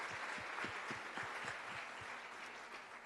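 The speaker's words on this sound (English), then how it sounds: "Shall we clap our hands?" A congregation at a Sunday church service in Pune claps together, a steady crowd applause somewhat distant and soft, with individual hand claps audible in the mix and faint voices underneath.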